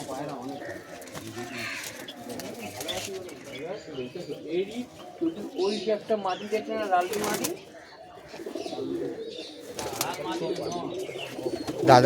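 A loft crowded with many pigeons fills with near, overlapping cooing and throaty burbles, rising and falling throughout while people talk over the birds.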